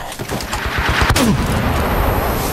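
Gunfire from the video game Uncharted: Drake's Fortune: a loud, close burst of rapid shots in the first second, then sustained noisy battle ambience, with no talk.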